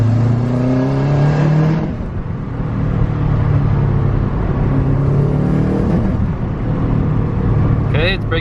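A Subaru WRX engine fitted with eBay headers revs up and down repeatedly, loud and close, with rising and falling turbo whine and a brief higher squeal near the end.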